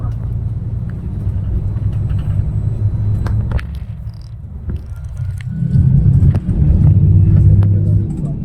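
A car drives and turns near the plain of Arafat outside Makkah, giving a loud, continuous low rumble of road noise and engine that swells as it turns, with a voice talking over it.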